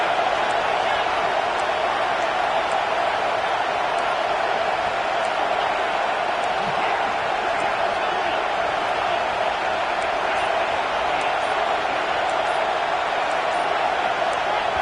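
Steady, roaring crowd noise from a college football video game fills the whole stretch, a dense wash of cheering with no breaks, loud and constant like a packed stadium on third down.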